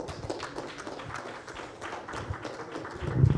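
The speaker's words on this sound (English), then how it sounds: "A round of applause, please." Audience at a workshop award presentation breaks into scattered, moderately quiet applause, with uneven claps continuing throughout and a few louder thumps near the end.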